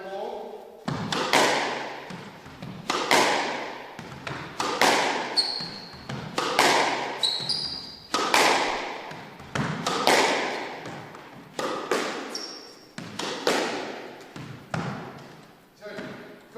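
Squash ball struck repeatedly with a Wilson Hyper Hammer 110 racket, hit down the wall in a steady rhythm of sharp thuds and rebounds, about one every second and a half, with occasional shoe squeaks.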